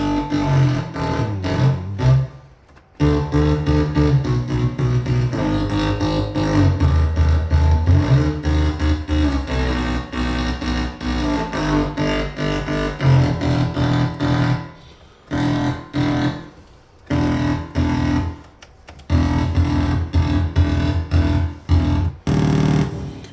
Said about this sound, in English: I'm running it through this, into this mixer, and I'm using the vocoder, and the vocoder is choosing the notes